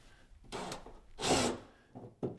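A power tool cuts through a spot weld on a car body panel in short bursts, harsh grinding rasps that rise and stop, with brief pauses between them.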